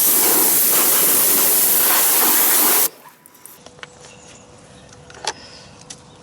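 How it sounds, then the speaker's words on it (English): dMax Fallout wheel cleaner sprayed onto a car wheel: a loud, continuous pressurized hiss for nearly three seconds, then quieter faint handling sounds. "Right, so you spray this on and leave it for 3 to 5 minutes."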